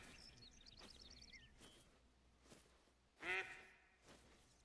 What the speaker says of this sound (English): I hear goose